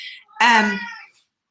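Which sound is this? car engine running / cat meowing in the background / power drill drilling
cat meowing in the background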